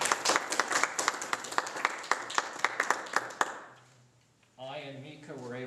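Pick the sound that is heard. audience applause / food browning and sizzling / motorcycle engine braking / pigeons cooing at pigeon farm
audience applause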